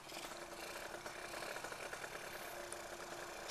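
A red Yamaha 125Z motorcycle with a standard tune-up runs steadily in first gear at high revs, a continuous buzzing engine drone with slight rattle, close and even throughout.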